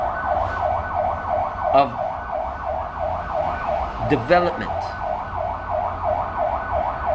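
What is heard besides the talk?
emergency vehicle sirens passing in traffic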